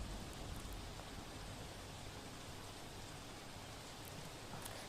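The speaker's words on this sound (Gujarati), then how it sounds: "ધીમી ધારે વરસાદની શરૂઆત થઈ છે" Light steady rain falls in Sutrapada, Gir Somnath, a soft, even hiss of drops with no voices, continuous and moderately faint.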